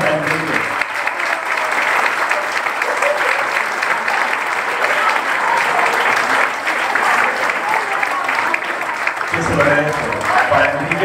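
Diners at an anniversary dinner of a neighbourhood association applaud loudly and steadily for a long stretch, with voices talking over the clapping near the start and end.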